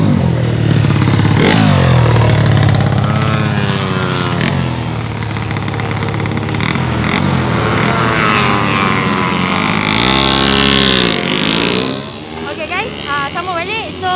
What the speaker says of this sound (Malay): kita tengok ada motor lalu